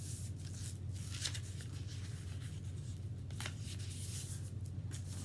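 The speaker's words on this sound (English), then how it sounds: "fold it over in half, like this, and then open it up and fold to make two triangles" Paper from an old book page being folded in half, opened and refolded into two triangles for a paper flower craft, with soft crinkles and rubbing swishes close by over a steady low room hum.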